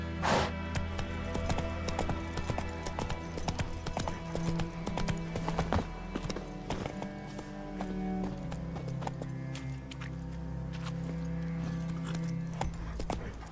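Horse hooves gallop in The Witcher 3 as a rapid, continuous clip-clop over a rumbling game soundscape, with occasional snorts and whinnies from the horse close by.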